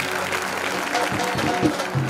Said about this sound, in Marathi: एकदा सागरदादासाठी आणि संपूर्ण टीमसाठी टाळ्यांचा गजर करूया